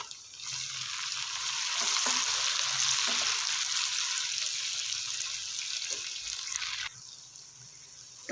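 Tomatoes fry in a hot pan for chana pulao, giving a loud, bright, continuous sizzle that holds steady before dropping off abruptly near the end.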